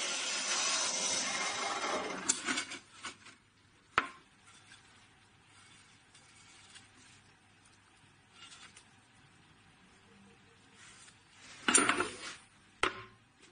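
A homemade band saw with a rear drum wheel cuts through wood, a loud continuous buzzing cut at the start that tapers off, followed by scattered knocks and a second brief burst of cutting near the end.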